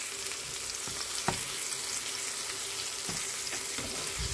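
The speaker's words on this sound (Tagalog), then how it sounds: "Dito, naggisa na ako ng bawang, sibuyas at kamatis." Garlic, onion and tomato sizzle steadily as they sauté in a frying pan with egg, a continuous close frying hiss with a few sharp stirring clicks and pops, no voices.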